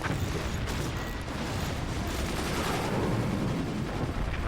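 Cannons in the strategy game Forts fire in a dense, continuous barrage, a thick roar of overlapping booms and impacts that holds steady and loud throughout.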